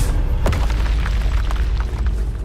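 Bombarda spell explosion in Hogwarts Legacy, a single deep booming blast near the start followed by a rumbling tail and scattered debris crackles.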